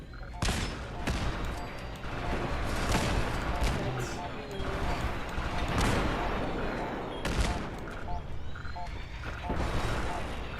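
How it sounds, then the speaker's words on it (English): Gunfire in Fallout 4, repeated bursts and heavy shots with booming impacts throughout, close and loud, while a voice talks over the fighting. "Who's shooting at me?"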